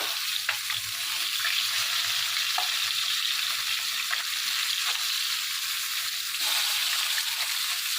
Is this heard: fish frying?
yes